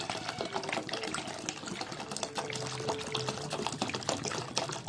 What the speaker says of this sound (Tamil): இது எவ்வளோ வேணுமோ தண்ணி ஊற்றிக்கலாம்